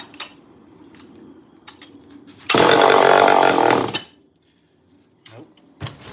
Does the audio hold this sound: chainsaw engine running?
yes